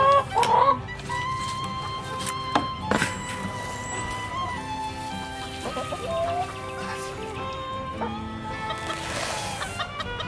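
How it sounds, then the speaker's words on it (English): A small bantam chicken clucks in short bursts near a greenhouse, with birdsong and other outdoor sounds behind it and steady background noise throughout. "He's a little bantam and he flies like a bird"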